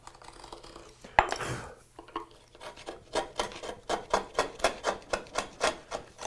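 A knife scores into wood while cutting a dado, producing a quick run of rhythmic scraping strokes, fairly close and moderately loud, after an initial sharp tap and scrape.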